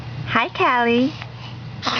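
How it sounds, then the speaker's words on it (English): A baby sneezes once, a short sharp burst near the end, after a nearby adult greets the child in a soft voice. "You got the sneeze and the hiccup."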